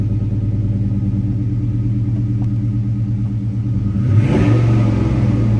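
A 1956 Chevrolet 3100 pickup engine idles steadily with a deep, close rumble, then revs up sharply near the end before settling back.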